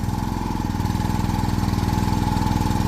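A small two-stroke engine on a miniature RC excavator runs at a steady idle close by, with an even, rapid chugging pulse and no talk.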